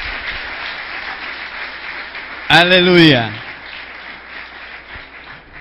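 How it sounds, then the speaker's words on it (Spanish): A church congregation applauds during a worship service: steady, dense clapping runs throughout, and a loud voice shouts briefly over it midway before the applause carries on. "¿Pueden darle palmas al Señor esta mañana?"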